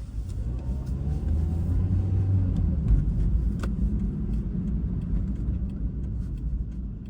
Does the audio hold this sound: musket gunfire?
no